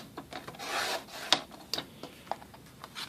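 A Christmas card being trimmed down by a quarter inch, heard as close, rough rubbing and scraping strokes in uneven short bursts with a few sharper snips, no voices.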